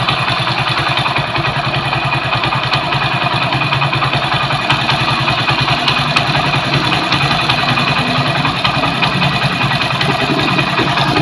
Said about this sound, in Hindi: अब ये बाइक दोस्तों स्टार्ट है।